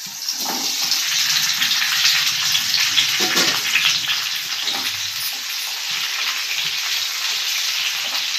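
Half a kilo of whole tomatoes fries in hot peanut oil, giving a steady, close, loud sizzle with bubbling crackle throughout and no talking.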